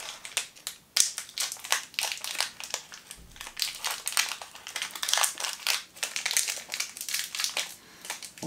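Plastic wrapper of a Dido chocolate bar being torn and opened up close, a long run of loud crinkling and crackling bursts with brief pauses, no talking.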